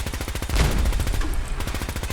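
Rapid automatic gunfire from Fallout 4 with a companion mod and weapons, a steady fast stream of loud close shots that swells briefly in the middle and keeps going throughout.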